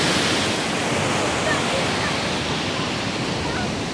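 Strong water current rushing around a pipe in open water, a steady, loud, full roar of flowing water that fills the whole moment without letting up.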